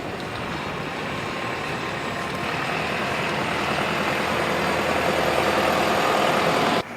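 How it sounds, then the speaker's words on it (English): A Wright StreetDeck double-decker bus with a Mercedes-Benz engine idles at a bus festival, its steady heavy diesel rumble growing slightly louder before cutting off abruptly at the end. "One of the newest buses in attendance was this Wright Street Deck, Mercedes-Benz powered double-decker"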